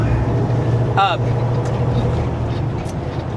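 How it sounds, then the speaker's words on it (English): A small car moves past a truck on the road, heard from inside the truck cab as a steady, loud engine and road rumble with a brief passing swell. Someone talks over the noise. "got a little car, doesn't want to let me over. It's all right, go around me, little car."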